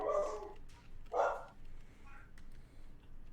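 Dogs barking in a room, a few short bursts near the start and around one second, then fainter yips trailing off, with no talk over them.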